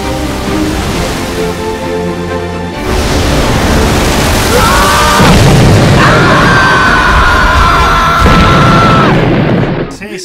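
Meteorite explosions in Minecraft: loud, dense booming blasts rolling in continuously after a quieter opening, with a sustained tonal whine layered over the rumble near the end.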